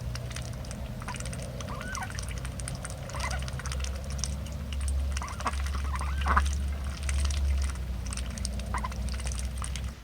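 Ducks and other fowl calling over a steady low hum near their pond, with scattered quacks rising now and then throughout.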